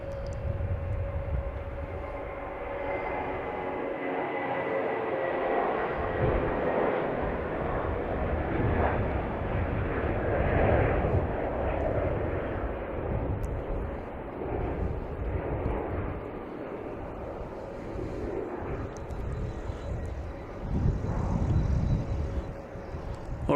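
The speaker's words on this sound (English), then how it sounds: "We got a JetBlue taking off, heading to New Orleans. It's an Airbus A320." A JetBlue Airbus A320 takes off at night from Logan Airport, its jet engines a steady, broad roar that holds loud and distant throughout without letup.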